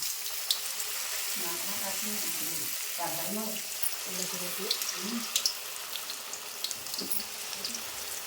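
Food fries in hot oil in a kadai with a soft, continuous sizzle and scattered pops, and a person talks over it throughout.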